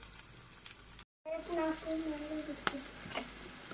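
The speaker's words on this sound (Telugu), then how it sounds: "ఇప్పుడు కలిపేసుకున్నాం బాగా ఫ్రై అయింది ఎగ్" An egg frying undisturbed in hot oil for egg rice gives a steady close sizzle that cuts out briefly, then returns with a few faint tonal whines and small pops.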